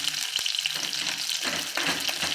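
Masala and stuffed eggplant (bharli vangi) are sautéed together in a pan, a close, steady sizzle broken by occasional scraping turns of the spatula.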